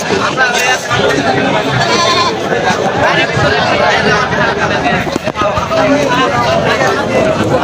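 Goats bleating among a busy livestock market crowd at a traditional rural haat, the animal calls mixed into a constant, loud hubbub of people talking and moving nearby.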